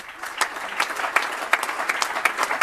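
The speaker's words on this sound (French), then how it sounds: "je voudrais qu'on l'applaudisse" An audience applauds the mayor at a speaking event, a short burst of fairly close clapping with distinct individual claps standing out.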